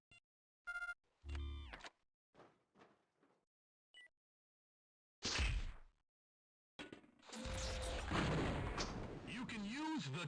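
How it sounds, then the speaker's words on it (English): Explosions and bursts of gunfire from the video game Half-Life: Gunman Chronicles, a few sharp bangs separated by silence, then a long, loud, chaotic roar of blasts. "Using a timed trigger setting, you can make your mule into a grenade launcher."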